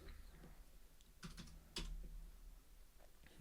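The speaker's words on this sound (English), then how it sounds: "I'm not used to this half-size keyboard." Keys clatter on a half-size computer keyboard in quick, irregular bursts, close and fairly quiet, with a sharper clack partway through.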